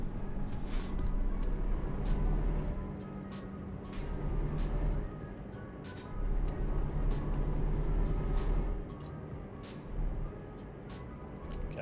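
Fuel tanker truck pulling away in a truck simulator game, a low diesel engine rumble that swells and eases in waves, with sharp air-brake hisses and faint beeps over it.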